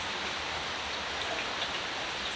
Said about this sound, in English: It's raining and you can just hear the rainfall